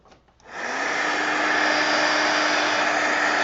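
A heat tool switches on and blows with a steady, loud whooshing hum while drying mixed media paper pieces, running without a break after a brief click at the start.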